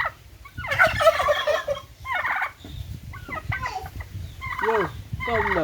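Angry backyard homestead turkeys, one of them on eggs, gobble in loud, repeated rattling bursts at close range, with a low rumbling background.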